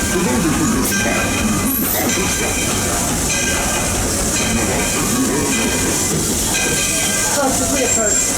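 A Walt Disney World Railroad train rumbles and hisses continuously, with clanking wheel noise and faint whistle-like tones, while a conductor's announcement plays over a loudspeaker.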